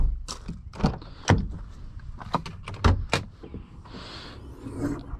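Someone climbs out of a 2022 Jeep Grand Cherokee, with several sharp door and handling knocks in quick succession, close by, followed by a softer rustle and a thunk near the end.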